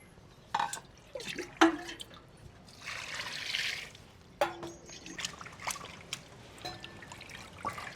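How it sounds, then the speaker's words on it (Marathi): Raw chicken is washed in water in a village kitchen, with scattered drips and splashes and one longer pouring gush in the middle, faint and close. "चिकन दोन ते तीन पाण्याने स्वच्छ धुवून घेणार आहोत"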